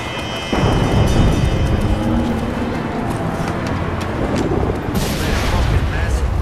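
A high explosive blows up a truck in the video game The Saboteur, a loud booming blast followed by a sustained rumble, with another sharp burst near the end.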